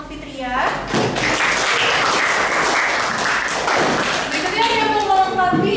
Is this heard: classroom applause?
yes